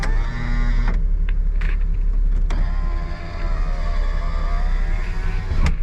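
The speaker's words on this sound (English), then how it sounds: "Let's check if the windows work." Power windows on a Honda Acty or Honda Today kei car whir up and down in a steady motor drone, with a few sharp clicks and thumps as the glass stops and the switches are pressed, close by inside the cabin.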